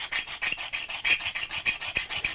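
A woodcarving tool is ground flat on a sharpener, giving a steady, close rasping scrape in quick, regular back-and-forth strokes with no talking.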